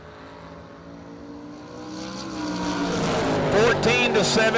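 Drag race run between a Vega wagon and a Camaro, engine roar rising steadily from moderate to loud as the cars approach, with a commentator talking over it.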